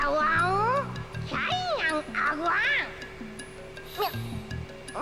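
A cat character in the video game Klonoa 2 gives several rising and falling meows in quick succession, bright and clear with a voice talking over parts of it.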